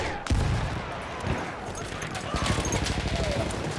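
Battlefield 1 gunfire shot from the hip in a match, with a rapid burst of close shots over continuous battle noise and loud scattered reports throughout.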